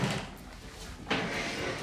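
A cellar door in an old hunting lodge swings open, a dull scraping, rumbling movement followed by a sharper knock or clunk as it gives way.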